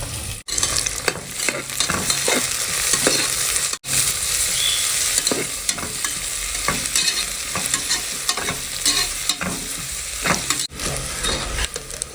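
Onions and curry leaves fry in a hot pan with a loud, steady sizzle, punctuated by repeated spatula scrapes and stirring clatters throughout; no one speaks.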